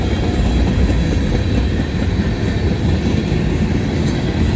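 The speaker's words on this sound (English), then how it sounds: "M585 is the train symbol." Loud, continuous low rumble of a CSX freight train passing nearby in Kingston, Georgia, a heavy rolling roar with faint metallic rattling throughout.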